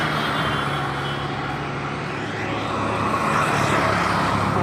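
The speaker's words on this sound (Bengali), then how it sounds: "ঢাকা মাওয়া হাইওয়ে রোডের এক সাইড দিয়ে হাঁটতেছি" Steady roar of traffic along the Dhaka–Mawa highway heard from the roadside on foot, with trucks, buses and cars rumbling past continuously, loud and close, without any pauses.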